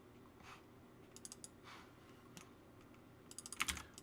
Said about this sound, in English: Typing the correct things.